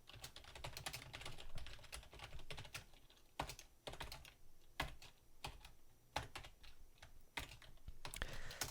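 Steady typing on a computer keyboard, with sharp irregular key clicks in quick bursts and short pauses, close and fairly quiet, with no talking.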